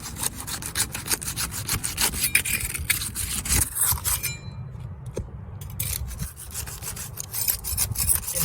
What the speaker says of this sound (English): just unsealing it with this flat trowel is tearing it up